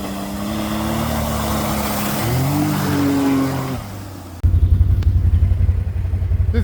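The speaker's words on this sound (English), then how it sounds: "you can't get to the end of the video without a little bit more of the Maverick X3 Turbo RR" Can-Am Maverick X3 Turbo RR side-by-side, a 200-horsepower machine, revs loudly up close, its engine note climbing and shifting in steps before dropping into a rough, pulsing idle.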